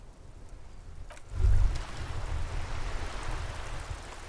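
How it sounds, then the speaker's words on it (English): Steady rain falls over the great city of Revachol in the Disco Elysium video game, a soft continuous hiss with a low rumbling swell near the start, alone with no voices. "All around you, rain falls on the great city of Revachol."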